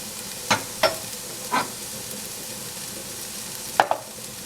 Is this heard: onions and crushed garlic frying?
yes